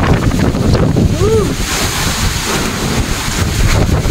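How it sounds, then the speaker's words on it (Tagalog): Strong, gusty wind from Super Typhoon Kristine in the Philippines roars across the microphone in a steady broadband rush, with a brief voiced exclamation near the start. "Grabe ang lakas ng hangin."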